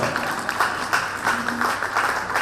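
An audience claps steadily at a preschool annual day show, a dense wash of applause that holds at an even level throughout.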